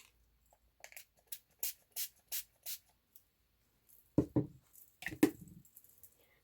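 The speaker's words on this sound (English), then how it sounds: "I'm just going to spray another card" Several short, hissing bursts of ink sprayed onto a card in a steady rhythm, close by, followed by some soft handling and tapping noises.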